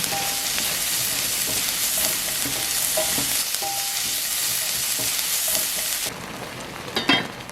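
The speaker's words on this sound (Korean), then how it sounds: "토마토를 넣고 치킨 스톡 1큰술 넣어 재료들의 간이 배이도록 섞으면서 볶으세요" Potatoes and tomatoes stir-fried with chicken stock in a pan, a loud continuous sizzle with scraping stirring strokes throughout, easing into a softer bubbling near the end.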